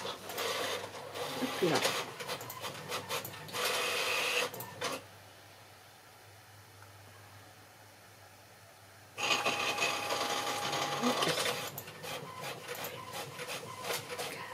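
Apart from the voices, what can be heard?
printer printing an order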